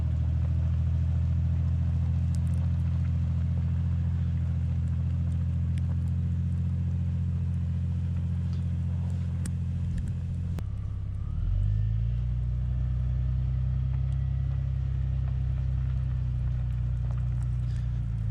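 A Jeep Cherokee XJ in two-wheel drive rumbles with a low, steady engine drone heard from inside the cabin, with faint rattles over it; partway through, the engine note dips, then settles back into the same tone.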